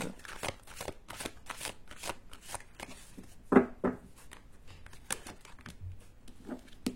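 Tarot cards shuffled and handled for a reading, a dense run of soft riffling and flicking with one sharper slap partway through, fairly close and steady, no talk over it.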